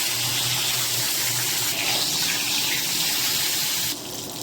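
Food frying in hot oil in a wok gives a loud, continuous hissing sizzle with no pauses. The sizzle thins slightly near the end and there is no talking.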